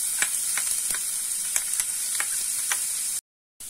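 Chopped garlic frying in coconut oil gives a steady bright sizzle, with sharp clicks and scrapes from stirring scattered throughout. It cuts off abruptly near the end.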